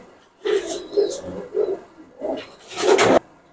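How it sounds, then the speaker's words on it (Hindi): Teddy flying pigeons coo at close range in a few short, throaty bursts separated by brief pauses, the final burst louder and fuller. "ये हमजा भाई मेरे पास हैं 5 फीमेल और 5 मेल टैडी है"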